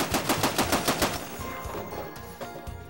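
A turret-mounted M2 or minigun fires a rapid burst of evenly spaced loud shots, then the sound fades into a rumbling echo and scattered distant reports.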